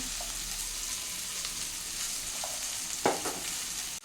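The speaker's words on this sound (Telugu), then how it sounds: "1/2 kg బెండకాయ కట్ చేసి పెట్టుకున్నాను కదండి, అది ఇందులో వేసేస్తాము." Cut okra (bendakaya) fries in oil with garlic and curry leaves, giving a steady, dense sizzle throughout, broken by a couple of soft clicks and one sharper scrape of a stirring spoon near the end.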